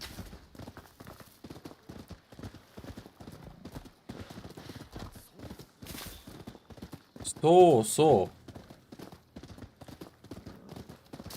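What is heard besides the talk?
horse hooves clip-clopping in video game Rise of the Ronin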